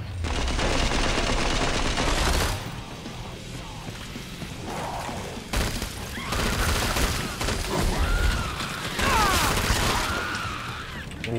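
Grenade explosion amid sustained automatic gunfire in Killing Floor 2, a loud continuous barrage with crashing blasts and shattering debris throughout.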